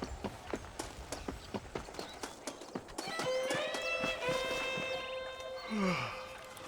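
Horse hooves pound in a quick, even rhythm in the Western video game Red Dead Redemption, followed by a loud, close neigh and whinny over continued movement.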